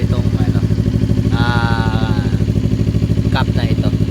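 A motorcycle engine idles in the morning to warm up after starting, a loud, close, rapid even putter that runs throughout while someone talks over it.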